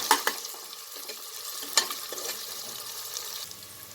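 Kidney and liver pieces fry in a pan while being stirred, giving a soft continuous sizzle broken by a few sharper scraping clinks near the start and midway, with no voices present.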